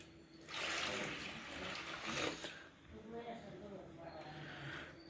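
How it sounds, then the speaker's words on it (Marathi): Water being poured off wheat starch that has settled at the bottom of a container while making traditional Maharashtrian kurdai at home; two faint, soft pouring swishes with a quiet pause between them. "पाणी काढत आहे आपण वरचं"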